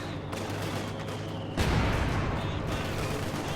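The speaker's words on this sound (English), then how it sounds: "Nice mortar shot" Mortar fire in a Company of Heroes match, a dense rumbling barrage of explosions and gunfire that swells into a louder blast partway through and keeps rolling without a break.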